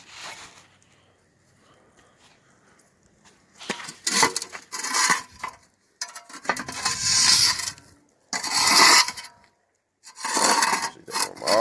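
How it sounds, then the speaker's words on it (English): Brush sweeping coals off the lid of a cast iron Dutch oven outdoors: several bursts of loud, close scraping and gritty rasping separated by short pauses. "Maybe brush some of them coals off the top if you want to"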